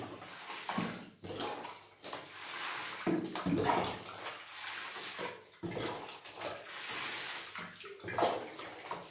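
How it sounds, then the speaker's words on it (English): Water poured onto a potted plant, a continuous close splashing and trickling stream with shifting intensity, running throughout with no voices. "Now I'm giving this one water until the roots start to turn green"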